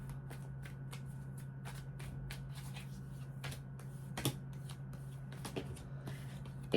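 Tarot cards being shuffled by hand in a steady series of soft, quick riffling snaps and flicks, close and fairly quiet over a low steady hum.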